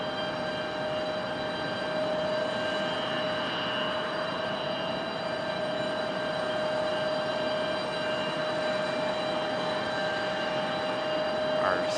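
A FedEx ATR turboprop arrives from Wilmington at an airport, giving off a steady, continuous engine drone with a strong propeller whine that holds level throughout.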